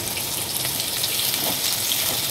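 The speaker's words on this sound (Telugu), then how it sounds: "ఇప్పుడు ఇవి ఆనియన్ వేసుకుంటున్నాను" Chopped onions sizzle in hot oil with urad dal in a pan, a soft, even frying hiss that holds steady throughout without any talking.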